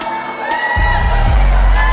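An indie wrestling crowd at an Imperial Wrestling Entertainment show erupts into loud cheering and whooping, the roar swelling suddenly partway through and staying loud and dense to the end.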